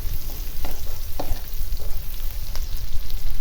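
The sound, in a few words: stirring sautéed ingredients frying for ginisang monggo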